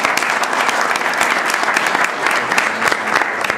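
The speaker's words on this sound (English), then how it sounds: "We owe them truly a round of applause." A crowd gives a sustained round of applause after a speech at a rabbi's talk, dense steady clapping filling the room from start to finish without a break.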